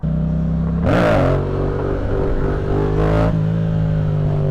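A Grom motorcycle engine revving outdoors: two sharp throttle blips about two seconds apart, each rising and then falling back to a steady idle.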